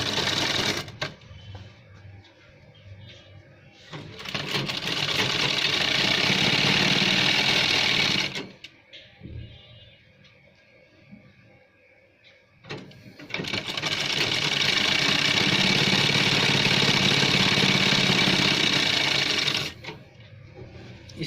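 A sewing machine stitches the folded hem of a gents' shirt sleeve, running in two long steady bursts of rapid mechanical whirring with a quiet pause between them and no talk.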